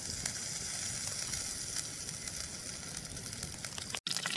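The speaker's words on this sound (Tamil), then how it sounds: "நான் இதில் வதக்குறதுக்காக எண்ணெய் விடுறேன். தேங்காய் எண்ணெய் தான் சேர்க்குறேன்." Coconut oil sizzles steadily in a hot pan, ready for sautéing, as an even hiss with faint crackles that stops abruptly near the end.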